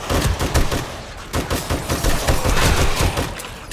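Rapid automatic gunfire in the survival game 7 Days to Die, loud close bursts that pause briefly and then carry on in dense sustained volleys.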